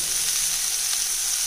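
Masala being stir-fried in a pan for millet noodles, a steady close hiss of sizzling oil with faint stirring, brief and without speech.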